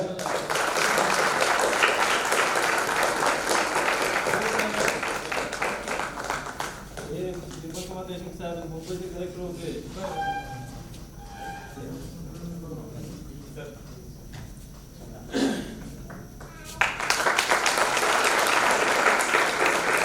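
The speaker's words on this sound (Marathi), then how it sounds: "जोरदार टाळ्या." Audience applause at a stage show in Pune: loud, dense clapping fills the opening seconds, gives way to a single speaking voice, then surges again near the end.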